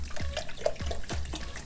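Orange soda glugs out of a bottle in short rhythmic bursts, a close, steady liquid pour with gurgling pulses.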